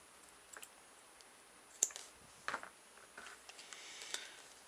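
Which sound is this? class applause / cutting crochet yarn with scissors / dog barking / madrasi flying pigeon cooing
cutting crochet yarn with scissors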